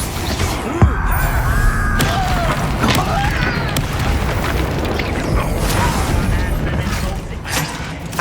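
A Confringo fire spell bursts in the Hogwarts Legacy video game, a loud blast over dense combat noise, with a sharp impact early and continuous rumbling game effects and music throughout.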